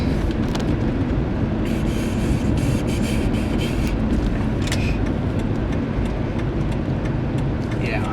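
A Ford Explorer cruises on the highway, a loud, steady broadband road and engine roar from inside the cabin with constant tire and wind noise and no let-up.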